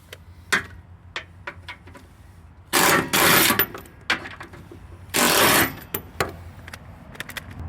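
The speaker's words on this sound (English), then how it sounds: "I'm going to go ahead and get these two 1/2-inch bolts out of here" Two half-inch bolts being loosened on a snowblower, scattered metallic ratchet clicks with two loud grinding bursts of a few seconds each, close-up and with no talking.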